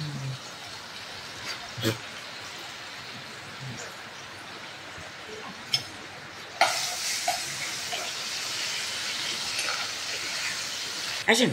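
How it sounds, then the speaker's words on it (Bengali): Potato pieces fry in hot oil with salt and a little turmeric, giving a soft, continuous sizzle with a few stirring clinks. The frying grows noticeably louder and brighter partway through. "তা আমার আলুগুলো ভাজা হয়ে গেছে ভালো করে"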